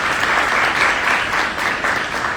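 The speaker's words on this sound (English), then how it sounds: "So I think they deserve a round of applause for their bravery and courage." An audience at a town hall meeting claps loudly and steadily, a dense wash of applause from many hands that holds without letting up and sounds close to the room.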